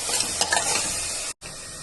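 Masala paste for egg rice fries steadily in a hot pan, a close, continuous sizzle with scraping stir strokes, cut by a brief gap near the end before the frying resumes.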